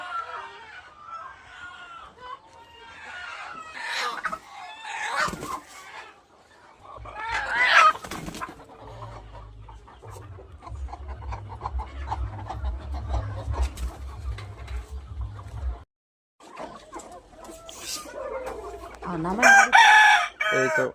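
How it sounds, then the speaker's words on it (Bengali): Hens and a rooster on a village poultry farm for native chickens, with scattered clucking and a crowing call near the start and end, partly under a woman's speech and a low steady hum in the middle. "এই তো মুরগি ওরা শেডের উপর বসে আছে"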